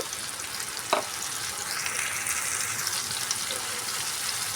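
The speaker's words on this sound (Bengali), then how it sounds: "মশলাটা দিয়ে পেঁয়াজের সঙ্গে আবারও খুব ভালো করে কষিয়ে নেব" Spices and onions frying together in a pan for an aloo-begun-chingri dish give a steady, close sizzle with one brief utensil knock near the start and a faint watery hiss; no speech.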